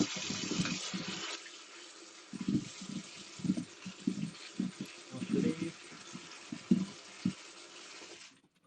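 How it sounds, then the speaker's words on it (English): Tap water runs into a sink for a few seconds and then stops, followed by a series of soft, irregular splashes and thumps as potatoes are washed, fairly quiet and close. "So let's just quickly wash these potatoes."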